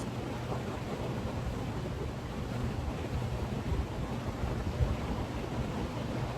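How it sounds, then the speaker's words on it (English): Ocean waves and a sea breeze make a steady, soft wash of surf and wind noise with no distinct breaks, fairly faint and continuous. "the sounds of the ocean breeze, the waves."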